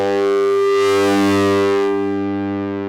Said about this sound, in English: So as I increase this signal level, I get a really nice bit of distortion through this.